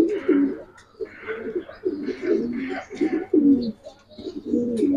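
Racer pigeons cooing close by in repeated throaty phrases, several calls overlapping in a steady rhythm with short pauses between them.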